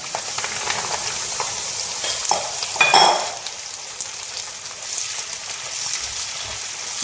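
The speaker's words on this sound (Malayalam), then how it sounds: "നമുക്ക് വേപ്പില വറുത്തെടുക്കാം" Curry leaves fry in hot oil with a loud, crackling sizzle, flaring into a brief burst of spitting before settling to a steady hiss.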